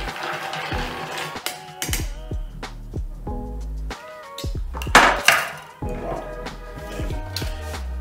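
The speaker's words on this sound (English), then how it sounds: "Ice cubes in the glass." Ice cubes clatter into a glass while an old fashioned with bourbon whiskey is mixed, a series of sharp clinks and knocks, with one louder crash midway and scattered rattling after.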